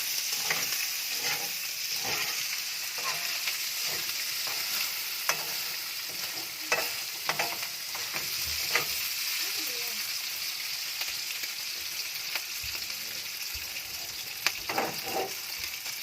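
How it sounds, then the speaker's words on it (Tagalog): Meat fries in a pan for kimchi fried rice, a steady close sizzle with repeated scraping stirs of a utensil, and occasional voices in the background. "Ito-toast ko lang tong meat."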